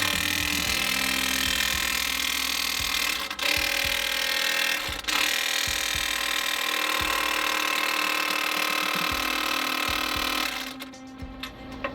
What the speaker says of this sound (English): It's an electric impact. It's half-inch drive